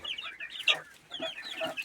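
Several small chickens cluck and peep softly in quick, scattered calls, close by and fairly quiet.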